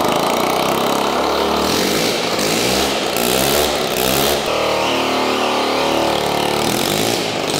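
Piaggio Zip scooter engine running loudly and close after a kick-start, with a buzzy two-stroke drone that rises and falls in pitch through several revs.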